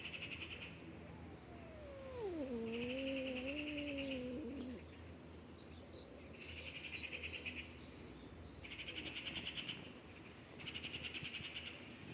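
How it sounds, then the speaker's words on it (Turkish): A male cat lets out a long, wavering meow, faint and somewhat distant, while insects or birds chirp in repeating pulses in the background. "Erkek kedi gelmiş galiba."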